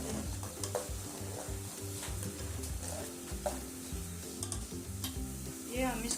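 Vegetables being stirred and cooked in a pot for a homemade chicken vegetable soup, with steady sizzling under repeated scraping stirs of a spoon, loud and close throughout with no talking.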